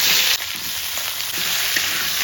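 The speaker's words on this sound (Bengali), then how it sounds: "কড়াইতে তেল দেওয়া হয়ে গেছে জিরে ফোড়ন দেব এখন আলু ফুলকপি দিয়ে দেব" Potato and cauliflower frying in hot oil with cumin in a kadai, a bright continuous sizzle with brief stirring touches, close and steady with no talk.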